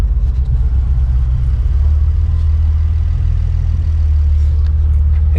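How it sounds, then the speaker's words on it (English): A car engine idles roughly after bigger E85 fuel injectors were fitted, giving a steady, loud, close low rumble with slight unevenness throughout. "It starts, but it's choking a little bit."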